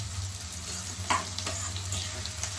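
Onions sautéing with rock salt in a pan for prawn thokku, a steady close sizzle with a couple of soft stirring scrapes, no talking.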